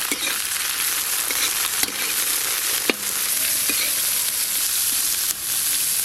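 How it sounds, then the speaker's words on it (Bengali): Capsicum, chopped onion and cabbage frying for egg chicken chowmein on a clay stove, with a steady close sizzle and occasional sharp scrapes and clinks of a spatula stirring in the pan. "এবার বাকি সবজিগুলো দিয়ে দেবো। ক্যাপসিকাম, পেঁয়াজ কুচি আর দেবো বাঁধাকপি"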